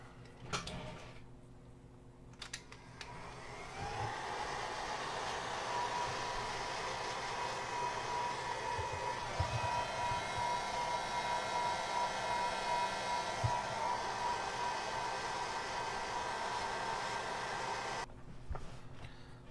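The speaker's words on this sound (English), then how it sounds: "get our heat gun out." A heat gun blows hot air onto heat shrink tubing during a Realacc X5R 5-inch drone build, a steady whooshing blower hum with a faint whine that runs near and loud for about fifteen seconds before cutting off.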